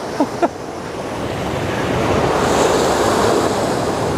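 Waves washing against the Westerschelde shore in the Netherlands, a steady rushing surge that grows louder and broad, mixed with wind noise, after two brief knocks at the start.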